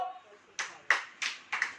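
A church congregation claps in a few sharp, separate beats, four or five quick claps following a brief faint sound, fairly close and moderately loud.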